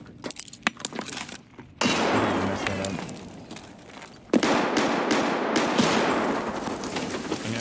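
A grenade explodes in a first-person shooter game, with two sudden loud blasts followed by crackling and scattered sharp pops, the second burst clearly heavier, over steady background game noise.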